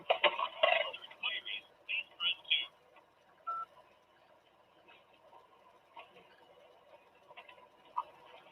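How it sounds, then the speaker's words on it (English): Touch-tone telephone keys being dialed, a quick series of short tones near and clear, followed by quieter ringing or line sounds and faint indistinct activity. "I can get on the phone and call Comfort Suites and see if they have vacancy"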